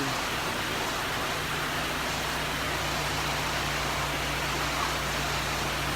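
Heavy rain pours steadily at a roadside rest stop for buses in Laos, a dense continuous hiss with a low engine hum underneath, close and unbroken.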